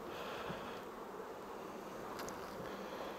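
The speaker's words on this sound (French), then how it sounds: "cadre à mâle et abeilles secouées" Dense, steady buzzing of many honeybees shaken from a drone frame close by, a continuous droning swarm with no pauses.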